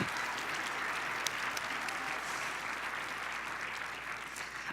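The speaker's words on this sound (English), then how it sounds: "please give them a huge round of applause" Loud, sustained audience applause at a city's State of the City address, a dense, even wash of many hands clapping throughout with no speech.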